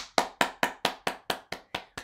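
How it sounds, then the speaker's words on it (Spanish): Nine sharp hand claps in a steady, even rhythm, close and fairly loud, each with a short decay, as a storyteller claps like a seal during a children's story session. "ahora soy una foca y aplaudo con las manos"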